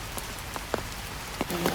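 Steady patter of rain on a surface, a dense hiss with scattered louder drops over the short stretch.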